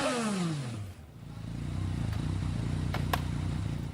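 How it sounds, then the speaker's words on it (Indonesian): A motorcycle engine revs hard and then drops back to a rough, steady idle, close and loud. "Nah, masih budak ini ngegas-ngegas"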